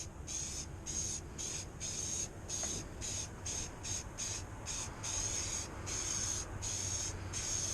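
Spray gun applying accent body paint to a project, a continuous close hiss broken into repeated short bursts as the trigger is pulsed on and off in an even rhythm.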